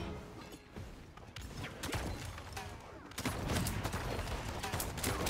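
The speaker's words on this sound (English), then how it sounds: "Ultimate is ready to fire these earthly bombs." Androxus firing his ultimate bombs in the Paladins video game, a dense run of loud gunfire-like bursts and explosive thuds that grows heavier partway through.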